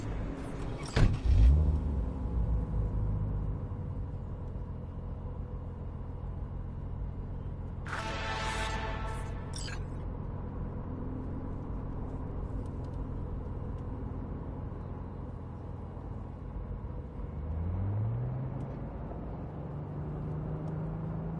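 A car in a video game drives on with a steady engine rumble and a low road hum, broken by a loud thump near the start and a brief whooshing rush partway through.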